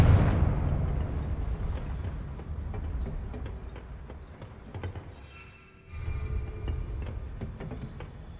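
A Confringo fire spell cast in the Hogwarts Legacy video game lands with a heavy blast that fades into a long rumbling tail, and a second booming impact follows a few seconds later.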